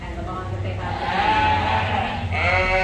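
Sheep bleating in the show ring at a 4H sheep show, one a little Icelandic cross being handled during showmanship judging, the calls rising and wavering over steady crowd murmur and background talk.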